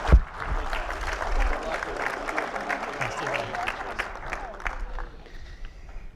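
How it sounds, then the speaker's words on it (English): Audience applause for a panel moderator, dense steady clapping that starts loud and gradually thins and fades over about six seconds. "let's have a big round of applause for Simon as well for moderating"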